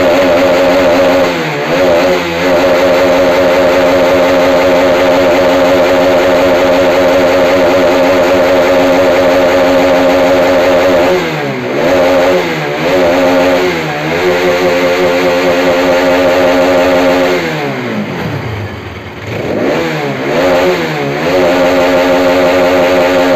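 A Bajaj RS200 motorcycle engine roars loudly at full throttle, holding steady, with several quick dips and surges in pitch near the end.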